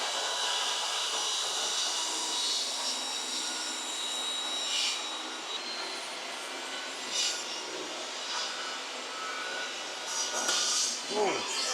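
A wooden board is ripped by a saw into long 3/4 by 3/4 inch strips, a loud, continuous high whine and roar up close that swells and dips slightly as the cut goes on.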